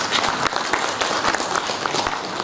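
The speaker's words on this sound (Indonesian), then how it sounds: "Tepuk tangan Pak." An audience at a teachers' association inauguration ceremony in a hotel claps steadily in a brief, dense burst of applause.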